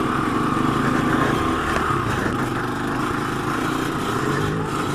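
A 1986 Honda ATC200X three-wheeler is ridden in first gear, its small single engine droning steadily and close, with a rough, buzzy tone that rises and dips slightly.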